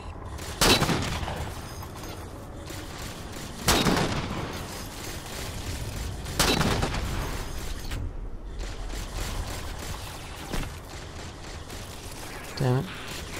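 Gunfire in Halo 4, several heavy separate shots a few seconds apart, each a loud burst with a ringing tail, ending with small mechanical clicks, with someone talking in between.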